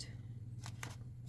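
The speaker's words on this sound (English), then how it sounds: "Cut through the middle of the Eastern Kingbird, and I'll do it with the pinking shears" Pinking shears cut through fabric in a few quick, crisp snips, close by and fairly quiet over a low steady hum.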